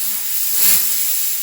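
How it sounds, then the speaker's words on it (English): Compressed air blasts out foam polishing pads used on Mustang wheels, a loud close hiss that swells briefly in the middle and then steadies. "This is where the compressed air really makes a difference."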